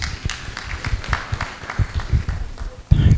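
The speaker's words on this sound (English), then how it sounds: "Another round of applause, please" At a health investment summit, an audience breaks into scattered, uneven hand clapping with irregular claps close by, swelling into a denser burst at the end.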